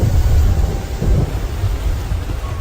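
Heavy rain with strong wind and rolling thunder during a storm, a loud, dense, continuous roar of downpour with low rumbling surges, close and enveloping with no voices.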